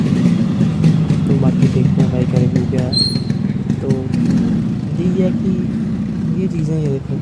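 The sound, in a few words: rebuilt Yamaha RX135 motorcycle engine running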